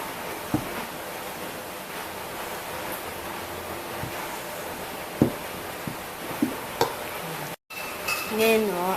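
Palitaw dough being mixed in a bowl: a faint, steady soft rustling and scraping, broken by a few light taps and a brief knock near the end.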